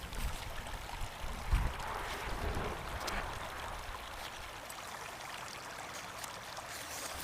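A mountain river flows in a steady, even rush of water, a continuous broadband wash with no voices, heard from the bank.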